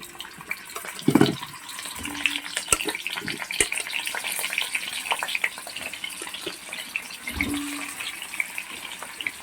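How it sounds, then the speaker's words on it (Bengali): Potato pieces frying in oil in a home kitchen until reddish-brown for a chicken curry: a steady close sizzle with scattered pops and crackles, a few dull knocks of a utensil, no talking. "আলুগুলোকে আমি লাল লাল করে ভেজে নেব"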